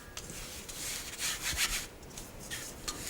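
A salted dry mix is pushed through a sieve by hand, giving a soft, continuous scraping and rubbing with gritty rasps, faint and close, with no voices.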